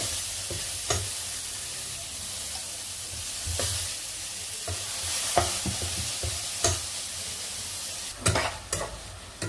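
Onion, ginger, garlic and shrimp fry in a pan with a continuous sizzle, punctuated by repeated sharp clacks and scrapes of a spatula stirring, a burst of clatter near the end; no speech.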